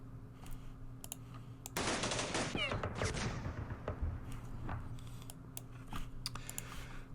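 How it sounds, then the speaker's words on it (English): Machine gun fire in the Vietnam war game Campaign Series Vietnam: a loud sustained burst of rapid automatic shots, followed by scattered sharper shots and clicks at a steady level. "Let's see if our machine guns can do some damage here."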